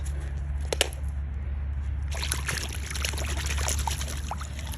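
Water runs and trickles while a toy remote-control car part is washed, a steady low hum underneath as a splashier, louder pour starts partway through and keeps going to the end.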